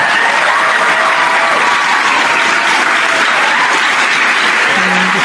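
A large audience applauding after a speech at Stanford, dense sustained clapping at full volume throughout.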